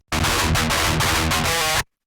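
Distorted electric guitar amp tone with the cabinet impulse response switched off, a harsh, fizzy, scratchy wash of rhythmic strums, loud and close, stopping abruptly after under two seconds.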